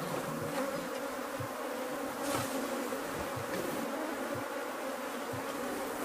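A populous honeybee colony buzzes steadily and loudly during a hive split, a dense, continuous close-up hum without pauses and with no voices.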